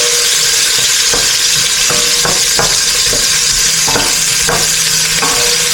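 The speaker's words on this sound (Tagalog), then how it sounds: "maglalagay na tayo ng sibuyas" Onion sizzling steadily in a hot pan as the base for a simple rice porridge, a loud continuous crackle broken by a few scraping stirs, with no talking.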